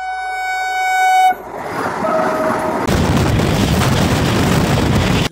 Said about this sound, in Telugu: దీన్ని కౌశిక్ ఎక్స్ప్రెస్ అని అయితే అంటాము.